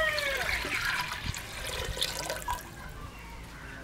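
Water pours into a cooking pot while mulai keerai kulambu with ground coconut is being made, a faint, close splashing and trickling that lasts a few seconds.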